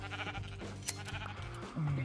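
Sheep in the Minecraft video game bleat several times in quick succession, fairly close, over a steady background of game sound.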